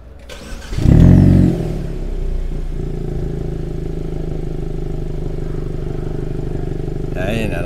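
A 2022 Hyundai Kona N Line engine fires up with a loud, brief roar, then settles into a steady, deep idle rumble that holds close by for several seconds.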